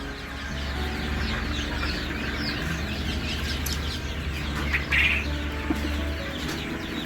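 Many chukar partridge chicks chirp and peep continuously, high thin calls overlapping close by, with a low steady hum underneath and no talking.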